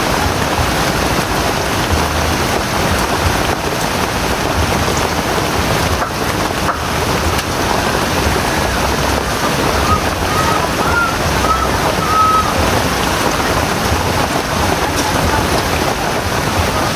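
Heavy rain during a typhoon, a loud steady wash of rainfall pouring without a break, with a faint voice somewhere beneath it.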